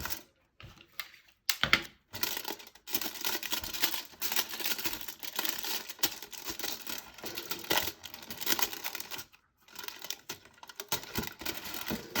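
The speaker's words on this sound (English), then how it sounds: "we tape the foil so it doesn't fly away." Foil being taped over a hole in a pinhole camera: close, quiet crinkling and tape handling with irregular rustles, brief clicks and short pauses.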